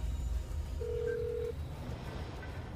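A single steady electronic tone, like a phone dialing a number from a business card, sounds for under a second over a low background rumble.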